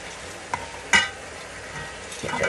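Green beans being stirred in a pan while they cook over low heat, giving a soft, steady sizzle with a few brief scraping clatters from the utensil.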